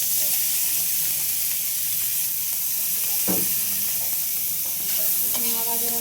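Freshwater pond snails fry in a pan with a steady broad sizzle, interrupted by a few stirring scrapes and clinks, close and continuous with no talking.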